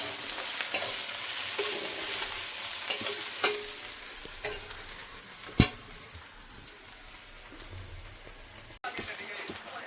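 Grated coconut frying in a pan for chana dal, a steady close sizzle broken by sharp scrapes and clacks of stirring, with no talk over it.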